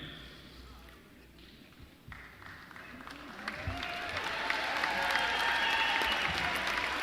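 Crowd in a college volleyball arena for the NCAA Division III national runner-up team, beginning as a faint murmur and swelling into broad applause and cheering that grows louder and fills the second half.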